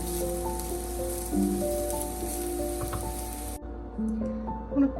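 Onions fry in hot oil for a karela sabzi, giving a steady, soft crackling sizzle throughout, with faint tonal hum in the background and no speech.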